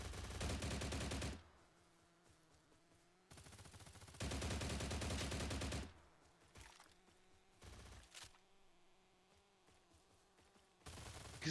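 Automatic gunfire in the shooter game STALCRAFT, three long loud bursts of rapid shots separated by quieter stretches of ambient hum with a few faint distant pops, ending with another burst beginning.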